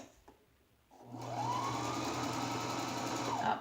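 A sewing machine runs steadily while stitching a toss pillow, starting after a short quiet pause and holding a close, continuous motor whir with fast needle chatter for about two and a half seconds, with no talking.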